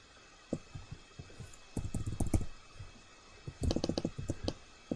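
Computer keyboard keystrokes and mouse clicks during drawing work on a perspective grid come in quick clustered bursts of close, crisp taps, separated by short pauses over a faint room hum, with no talking.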